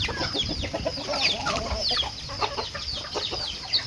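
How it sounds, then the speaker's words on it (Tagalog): A busy flock of farm chickens clucking and squawking nearby at feeding time, overlapping calls with occasional sharp higher cries and a faint crow, continuous for several seconds. "Yan, marami-rami na rin yung manok namin."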